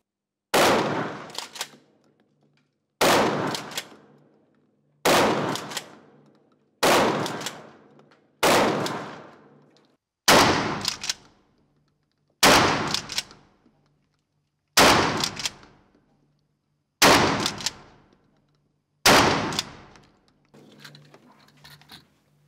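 Hatsan Escort MP-TS 12 gauge shotgun fired at a target 25 m away, ten loud single blasts spaced about two seconds apart, each with a short decaying echo, and no talking.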